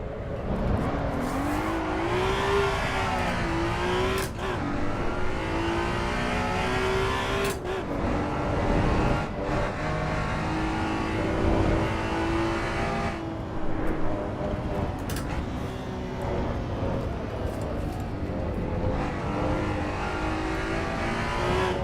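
A Honda NSX racing in Assetto Corsa EVO on supercar tires, its engine droning loud and continuous with rising and falling revs, sharp gear-shift breaks and occasional tire squeal, no talking.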